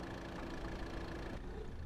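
A farm tractor engine idles steadily with a dense, even rumble and mechanical hum that fills the whole short stretch at constant loudness, with no voices over it.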